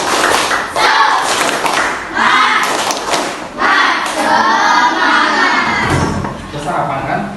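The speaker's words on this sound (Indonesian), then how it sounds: "Tepuk semangat." A classroom group doing the tepuk semangat spirit clap, bursts of loud, patterned hand clapping with thuds, repeating in rhythmic phrases for several seconds with voices mixed in.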